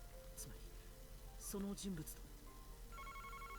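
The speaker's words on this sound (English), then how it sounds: "Wait, the phone's ringing." A telephone ringing in the Famicom Detective Club: The Missing Heir video game, a short electronic ring tone sounding near the end over soft game music and a chiming sound effect, with a person talking in between.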